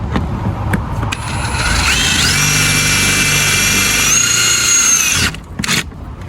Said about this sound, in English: Let's see what happens once we drill those other 2 holes.